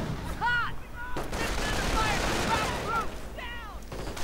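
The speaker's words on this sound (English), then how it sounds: "Sniper firing away." Sniper rifle fire in a WWII strategy video game: sharp, moderately loud shots within dense battlefield gunfire, with brief shouted voice cries rising over the clatter.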